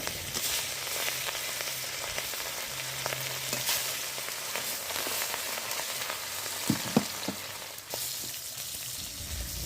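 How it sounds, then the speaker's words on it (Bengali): Pieces of catla fish fry in white oil with a green chilli in a wok, a steady close crackling sizzle that runs throughout, with a few spatula clicks and stirs toward the end and no talk. "এক এক করে মাছগুলো সব ভেজে নিচ্ছি।"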